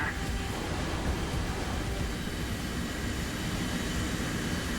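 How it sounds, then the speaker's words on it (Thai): A propeller-driven fighter plane in War Thunder drones with a steady, loud engine roar that fills the whole stretch without letup, broad and rumbling with no voices over it. "เป็นเครื่องบินใบพัด จะมาตามเครื่องบินเจ็ตเหรอ"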